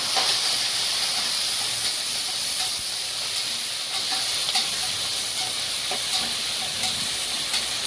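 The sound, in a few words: green chillies, onion and curry leaves frying in oil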